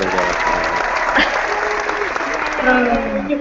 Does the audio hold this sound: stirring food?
no